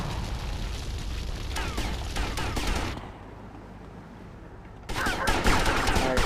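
Rapid minigun fire aimed at a tank in GTA Vice City, a dense continuous rattle of gunfire with booms that stops around the midpoint, leaving a quiet gap, then resumes loudly near the end.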